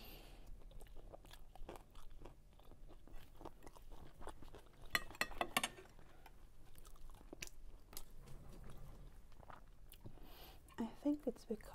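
Raw herring on rye bread being chewed in close binaural eating ASMR: soft wet mastication punctuated by scattered crisp bites and crunches, intimate and quiet, with sharper crackly bursts near the middle and end.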